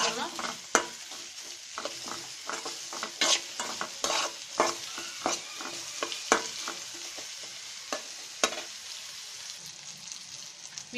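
Onions with a pinch of salt fry in a pan for a coriander-leaf bhorta, giving a soft, quiet sizzle punctuated by irregular sharp clacks of a spoon stirring against the pan.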